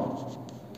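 A teacher writes during a Class 10 science lesson on the law of reflection, giving a brief, continuous scratchy stroke sound that stays close and fairly steady with no talk.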